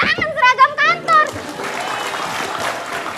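A television studio audience breaks into steady applause on an Indonesian talk show. A brief burst of speech comes first, then a dense, even wash of clapping carries to the end.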